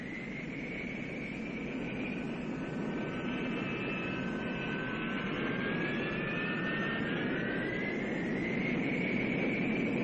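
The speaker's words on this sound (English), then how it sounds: "the F-4B of Marine Fighter Attack Squadron 115 taxis out for takeoff" A McDonnell Douglas F-4B Phantom II of Marine Fighter Attack Squadron 115 taxiing out for takeoff, its jet engines giving a continuous whining roar with sweeping high tones, steady and moderately distant.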